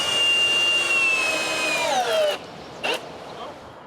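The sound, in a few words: screwing a wooden piece to a wall plate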